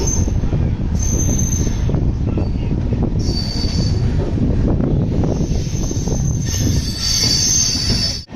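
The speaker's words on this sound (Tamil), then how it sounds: "அதுக்கப்புறம் நம்ம ட்ரெயின் டிபார்ச்சர் பார்க்கலாங்க." Vaigai Express pulling out of Chennai Egmore station, steady loud rumble of rolling railcars with repeated high-pitched wheel squeals and faint clacking along the platform, no talk.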